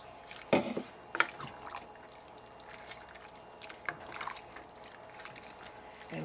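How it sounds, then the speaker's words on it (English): Water poured and trickling into a pot for chicken noodle soup, a couple of louder splashes early on, then a quieter steady dribble with faint kitchen background. "go ahead and add the rest of our water."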